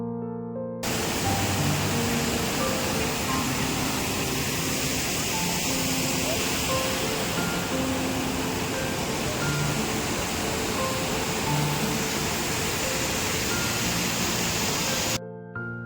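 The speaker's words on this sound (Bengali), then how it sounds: "চলুন আপনাদেরকে একবার এই ঝর্ণার আওয়াজটা" A monsoon-swollen waterfall rushes in a green hilly setting, a steady, broad roar of falling water that stays constant for nearly the whole stretch, with faint voices of people underneath.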